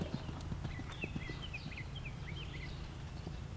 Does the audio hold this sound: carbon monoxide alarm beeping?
no